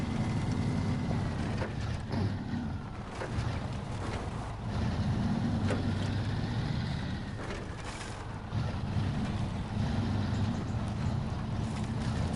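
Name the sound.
throaty V8 truck engine in SnowRunner video game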